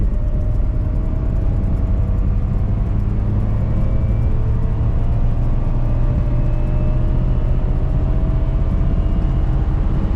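A cheap $300 car in second gear, with bad tire noise, makes a continuous close engine drone and road roar, with a slowly rising whine as it pulls along.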